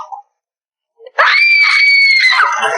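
A woman lets out a sudden, piercing scream inside a room during a break-in scene, loud and sustained for over a second with a wavering high pitch, after a brief faint sound and near silence.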